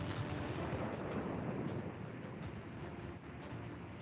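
Rumbling explosion effects from a student VFX news piece about plants bursting in the heat, a dense continuous roar with repeated muffled blasts, loud and steady throughout.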